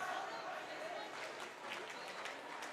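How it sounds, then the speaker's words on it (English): Crowd in a gym clapping and cheering at a high school sectional final volleyball game between Barron and Grantsburg, a steady dense wash of applause that stays at an even level throughout. "he's trying to get them up to clap their hands"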